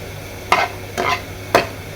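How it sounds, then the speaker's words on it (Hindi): Okra and minced mutton frying in a pan, with three separate stirring scrapes and bursts of sizzle at a steady rhythm over a low hum, close and moderately loud. "थोड़ी देर हम कीमा भिंडी इस तरह से फ्राई होगी"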